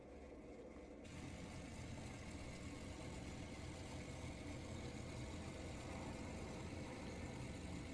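A plane engine in Microsoft Flight Simulator 2024 stuck at idle, a steady unchanging drone that holds level and loud for the whole stretch with no throttle changes.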